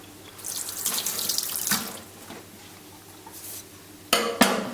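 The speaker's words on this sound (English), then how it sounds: "Okay, just wash my knife." A running sink tap splashes steadily as a knife used for filleting a sea bream is rinsed under it, close and fairly loud, with a few clinks and bursts of water toward the end.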